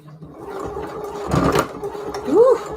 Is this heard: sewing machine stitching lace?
yes